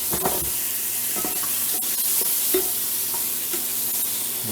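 Half a pound of shrimp frying in butter in a pan gives a steady close sizzle throughout, broken by scattered clicks and scrapes of stirring.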